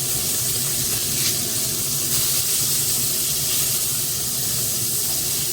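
Salmon pan-frying after being flipped, a loud, steady sizzle and hiss that holds close and constant with no speech over it.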